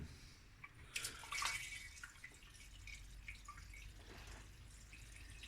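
Faint water trickles and drips down a drain pipe, with a brief louder splash of pouring near the start, then a steady quiet flow continuing.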